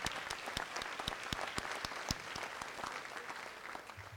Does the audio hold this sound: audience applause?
yes